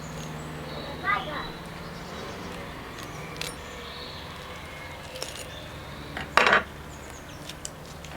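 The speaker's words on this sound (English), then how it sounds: "So what we're going to do is cut this net off. So just passing the knife under it." A knife passes under the net on a pork joint, making a few short scrapes and clicks against the board, loudest near the end, with muffled background noise and no voices.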